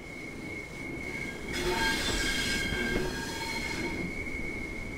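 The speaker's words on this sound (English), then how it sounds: "I meant start slowing the train." A train in a railway simulator game slows down, its wheels squealing against the rails over a steady rolling rumble, swelling louder in the middle and then easing back, with no talking.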